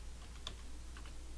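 Soft keystrokes on a computer keyboard, a few quick taps in a short burst, faint and close in a quiet room.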